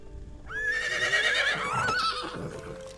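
A horse in Medieval Dynasty lets out a loud, drawn-out whinny while being ridden, rising sharply then trailing off, with faint hoofbeats underneath.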